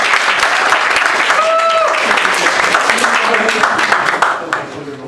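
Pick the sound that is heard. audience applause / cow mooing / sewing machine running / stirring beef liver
audience applause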